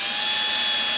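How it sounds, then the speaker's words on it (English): A power drill boring a small pilot hole through a Viking Viper XL motorcycle saddlebag, a steady high whine running loud and unbroken with no talk. "Drill that out."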